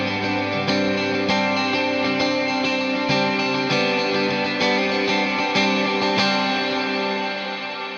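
Guitar with notes ringing through a thick, dense reverb that smears them into a washed-out, echoing wall of sound, with picked attacks about every half second and no voices.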